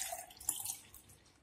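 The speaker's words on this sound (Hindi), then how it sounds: "तो हम एक ग्लास लेंगे और उसमें सत्तू के घोल को डाल देंगे।" Thick chana sattu drink mixture poured into a glass, a short soft liquid trickle and splash, close and faint, with no talking.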